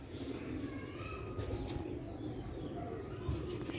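Pigeons coo softly on a loft roof in Sialkot, faint low calls over a quiet background, with a few light rustles.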